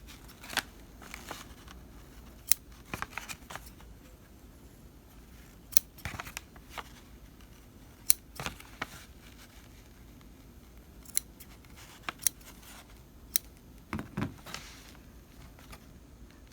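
Scissors cut through fabric down the center, giving a series of crisp snipping clicks at an uneven pace, close and fairly quiet with no talking.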